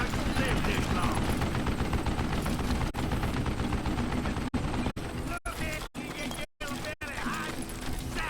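An old man fires a mounted gun in the Western shooter Call of Juarez: Gunslinger, sending out rapid bursts of loud gunfire over dense game noise, with short sharp breaks between volleys.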